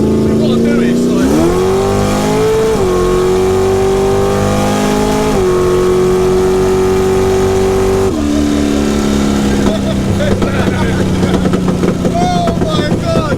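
A 9.8-litre, 800-horsepower Chevy Nova drag car engine roars loud and close, its pitch climbing and dropping through several revs before falling to a rough, burbling idle, with voices shouting over it.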